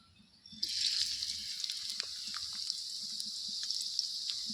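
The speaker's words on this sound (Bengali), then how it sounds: "পেঁয়াজ আর লঙ্কা কুচিটাকে ভালো করে ভেজে নিতে হবে, লাল লাল করে" Chopped onion and green chilli dropped into hot mustard oil, a sudden loud hiss that settles into a steady, close frying sizzle with small pops.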